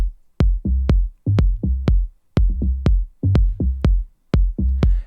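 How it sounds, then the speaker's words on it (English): Punchy melodic techno kick drum hits in a repeating pattern, each a sharp click followed by a deep booming low tail, loud and dry. "Let's start with the kick drum, or basically the low end foundation, which sounds like this."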